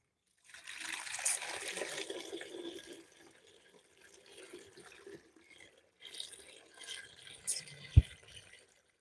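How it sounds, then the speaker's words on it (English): Water being poured into a homemade bleach and stain remover mixture containing caustic soda, a trickling, splashing pour that fades, resumes unevenly and ends with a single clunk. "So this is the additional water to make up for the excess caustic soda."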